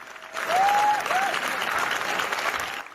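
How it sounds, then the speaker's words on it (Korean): Sustained standing ovation for a Korean film at a film festival screening, dense applause from a large audience rising quickly and holding steady, with faint voices mixed in. "호평과 함께 7분간의 기립박수가 쏟아졌습니다"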